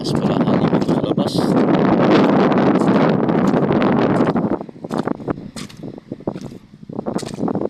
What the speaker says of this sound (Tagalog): Malalakas pala hangin dito sa labas.